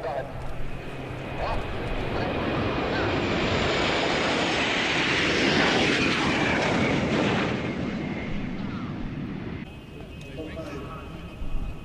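Jet aircraft of the UAE Al Fursan national aerobatic display team at an air show, with a roar that swells to a sustained peak and then fades as they pass, under a voice talking.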